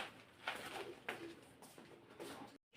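Soft, low pigeon coos repeat a few times over faint background hiss, with a short silent gap near the end.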